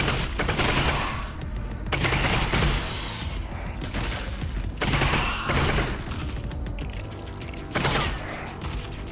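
Rapid bursts of gunfire in the Half-Life: Alyx VR game, fired at antlions in repeated loud volleys about every two to three seconds, with mechanical clatter between shots.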